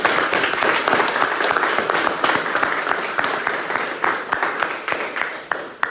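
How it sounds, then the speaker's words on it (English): An audience at a talk applauds in a lively burst of many overlapping hand claps, full and close at first, then gradually thinning and fading toward the end. "So give yourselves a round of applause."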